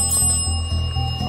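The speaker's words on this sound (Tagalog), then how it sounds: "You can tap the bell." A small bell inside a haunted hospital attraction in Japan is tapped, giving steady metallic ringing with quick repeated strikes in an even rhythm, close and fairly loud.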